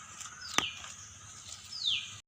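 A faint, distant mother bird gives a couple of thin descending calls, with a sharp click early on and a quiet background.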